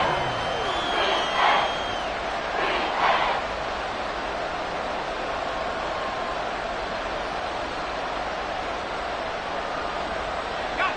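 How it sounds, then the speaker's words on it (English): A football crowd on its feet late in the fourth quarter of a one-score Panthers game sends up a steady, distant roar, swelling briefly with an announcer talking over it early on. "Crowd on their feet."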